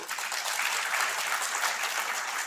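Audience applause fills a hall at a book launch ceremony, a steady, dense clapping that holds at an even, fairly loud level throughout with no voices over it.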